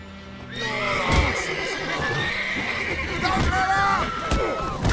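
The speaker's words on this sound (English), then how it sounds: "Horses working witchcraft." Horse neighing and whinnying in The Witcher 3 video game, a loud repeated whinny with some hoof clip-clop, over game music and combat noise.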